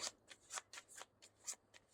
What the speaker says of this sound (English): let me shuffle these up first